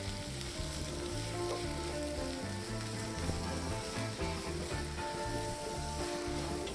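Onion and garlic fry with sausage in a pan, giving a steady, close sizzle that runs unbroken the whole time with no voices.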